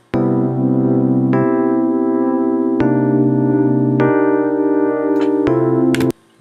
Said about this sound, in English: Electric piano